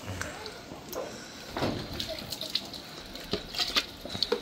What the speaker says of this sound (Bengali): উষ্ণ গরম জল দিয়ে তুমি স্নান করাচ্ছি